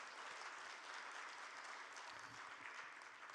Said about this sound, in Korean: 하나님께 영광의 박수 한번 올려드리도록 하겠습니다.